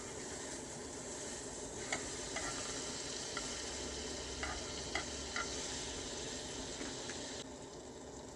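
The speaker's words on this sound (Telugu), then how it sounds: "నేను మిగతా ఇంకొక స్లైస్ బ్రెడ్ ఏదైతే ఉందో దాన్ని కూడా నేను అలాగే ప్యాన్‌లో కొంచెం అంత బటర్ స్ప్రెడ్ చేస్తున్నాను" A slice of bread toasting in butter in a frying pan, with a continuous loud sizzle close by and a few faint scraping taps from a spatula over it.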